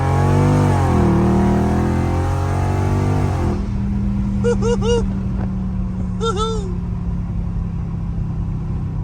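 A loud Dodge Scat Pack muscle car engine revs and climbs in pitch for a few seconds in a roll from about 40, then settles into a steady low drone with a few brief high chirps.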